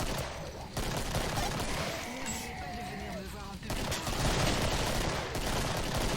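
Gunfire keeps up in a dense, continuous burst while shooting zombies in the video game Killing Floor, with voices talking over it.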